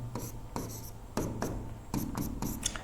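Pen scratching across paper while physics equations are written out, continuous rubbing strokes in several steady bursts, close and clear with no voices.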